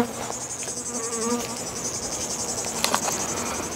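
Honey bees buzzing at a beehive during a honey harvest, a dense steady hum of many insects close up, with a few brief louder bursts.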